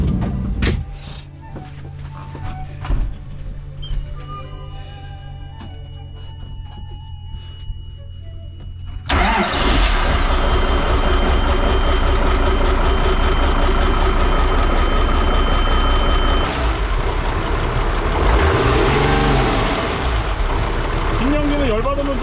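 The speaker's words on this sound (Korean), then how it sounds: "시동 한번 걸어볼게요" A Volvo AD-series marine diesel on a boat cranks and catches at about nine seconds, then runs as a loud, steady rumble that fills the rest of the clip, with quieter low engine hum and faint background before it starts.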